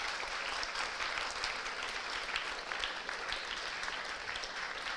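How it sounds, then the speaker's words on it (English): An audience at an inaugural ceremony for a medical students' induction program applauds steadily, the clapping even and moderately distant, with no talk over it. "Can you please give a big round of applause?"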